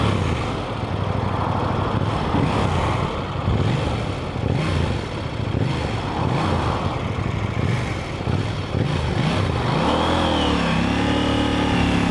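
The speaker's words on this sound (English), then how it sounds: "the sound of this bike really reminds me of back when I was riding ATVs" A mid-pitched KTM Duke 790 motorcycle engine revs and drones steadily up close, then rises and falls through a couple of throttle sweeps near the end.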